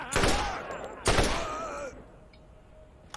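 Gunfire in the Borderlands video game, two sharp bursts of shots about a second apart followed by a fading tail.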